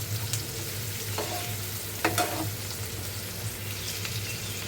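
Onion softening in hot oil in a pan for a village-style spicy matki curry, a soft even sizzle with a few scrapes and spoon taps, faint and close, no one speaking.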